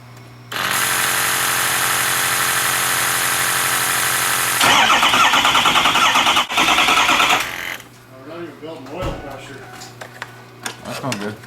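A Ford 6.0L diesel engine cranks steadily for several seconds, then catches into a loud, rough, rattling idle before settling to a lower clatter, with people talking nearby.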